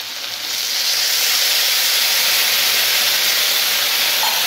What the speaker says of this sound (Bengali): আমি জল ঢেলে দেবো কিন্তু এখন